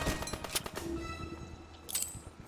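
Gunfire in Call of Duty WWII crackles faintly in the distance, scattered shots and bursts spread across a busy wartime battle din with no clear talk.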